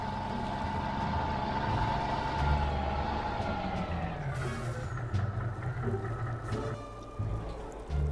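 A tractor engine drones steadily in the Farming Simulator 19 video game, a muddy tractor pushing loads of dirt up a steep pit slope, its low hum running continuously with a few faint higher tones over it, no talk.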